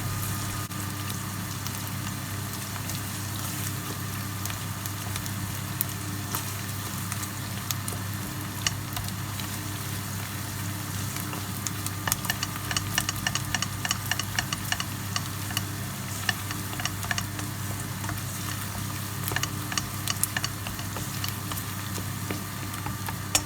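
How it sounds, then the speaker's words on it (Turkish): Onion with tomato paste, sweet pepper paste and hot pepper paste sautéing in a pan, giving a steady, even sizzle with faint ticks and light scrapes, no talk over it. "Şimdi onları iyice kavuruyorum"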